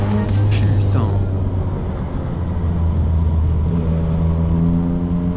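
A small twin-cylinder motorcycle engine revs loudly and smoothly, with a rising whine early on that then settles into a steady, close-up drone.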